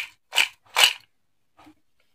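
Crispy fried bitter gourd (karela) bitten up close: two loud, sharp crunches in quick succession, then a faint third crackle, with no talking.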